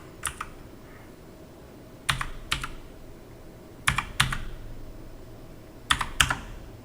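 An Aadhaar number is being typed on a computer keyboard. Short, crisp clusters of keystrokes arrive in about four bursts with quiet pauses between them, close up and with no voices.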